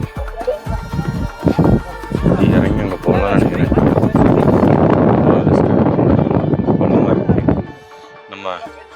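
Strong wind gusting across a high cliff edge on a desert escarpment, roaring and buffeting loudly for most of the clip before easing near the end, with voices talking over it.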